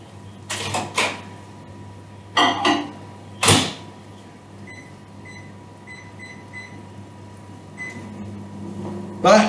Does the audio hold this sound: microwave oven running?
yes